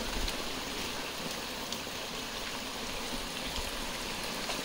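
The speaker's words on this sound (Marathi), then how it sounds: "पाऊस आता ना होता, आत्ता आला लगेच पाऊस।" Steady rain pours down in the Konkan countryside, a dense, even hiss that continues without pause throughout, with no voices.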